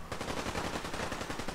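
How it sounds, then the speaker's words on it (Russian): Rapid automatic gunfire in the game Fallout 4, a dense continuous burst of fast shots without a break throughout. "Автоматчики работают."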